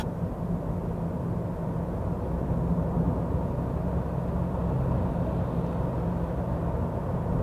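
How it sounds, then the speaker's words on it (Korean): Honda Accord Turbo sedan accelerating from 60 to 80 km/h while staying under 2000 rpm: a steady, low, muffled engine and road drone inside the cabin, even and unbroken throughout. "60km에서 80km로 가속을 하는데 2000rpm 안 넘기고 쭉 가속을 해주는 모습을 보셨을 겁니다"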